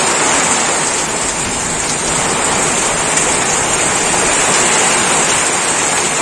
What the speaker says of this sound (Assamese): ইয়াতে আৰু বৰষুণ দিলে বৰষুণ